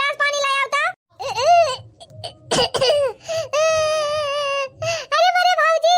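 A cartoon character in an Awadhi village comedy breaks into a short, rough cough, sitting between stretches of bright, high-pitched animated speech.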